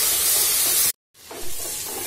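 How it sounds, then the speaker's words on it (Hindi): Ginger garlic paste hits hot oil in a pan for moong dal pulao, bursting into a loud, close hiss and sizzle that cuts out briefly, then resumes more softly. "इसमें अब हम डालेंगे जिंजर गार्लिक पेस्ट, कुछ सेकंड के लिए इसे भी हम अच्छे से भून लेंगे।"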